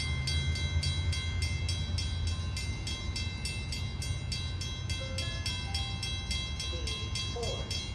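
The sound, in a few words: Long Island Rail Road train approaching crossing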